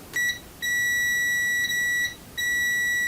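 An electronic buzzer in a contactor control circuit sounds in several sustained high beeps, starting and stopping with short gaps between, clear and close.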